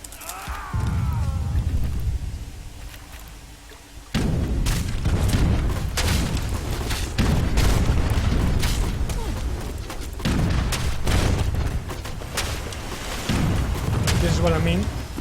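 Mortar and tower fire in Age of Empires 3 thuds and booms in a dense, rumbling barrage of overlapping blasts that carries on almost without break, while someone talks over it.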